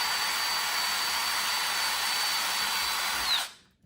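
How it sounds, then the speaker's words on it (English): A power drill bores a pilot hole through the top of an HO scale model railroad layout, a loud steady high-pitched whine lasting over three seconds before cutting off abruptly as the motor stops. "We're going to drill a pilot hole"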